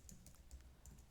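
A command typed on a Linux computer keyboard: quiet, quick key clicks in an uneven rhythm for about a second, close and soft, with no talking.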